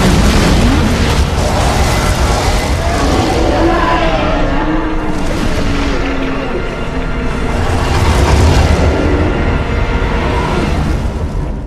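Loud, continuous explosions and rumbling booms from an attack in the Ultima 1 video game, dense and sustained across the whole stretch with some tonal game sound mixed in.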